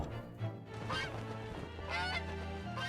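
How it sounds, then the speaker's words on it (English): Goose honking in The Great Ace Attorney Chronicles, loud repeated honks over a steady backdrop of game music. "So that's a real goose?"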